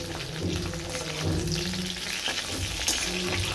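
Leftover potatoes frying in a pan, a soft continuous crackling sizzle like light rain, close and steady with no talk.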